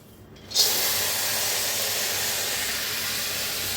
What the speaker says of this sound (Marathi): मटकी अशी जरा पहिलं भाजून घ्यायची